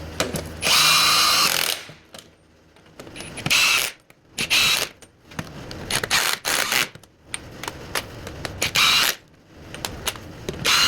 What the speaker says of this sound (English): I'm just gonna go around and get them all torqued down.